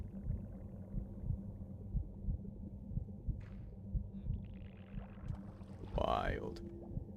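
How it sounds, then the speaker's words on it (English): Low, steady heartbeat-like throbbing sounds near a conduit in Minecraft, repeating in a soft rhythm under ambient drones, with a brief swelling whoosh near the end. "There's a heartbeat."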